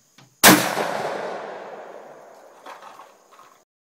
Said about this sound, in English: It is the most epic gun I have shot ever.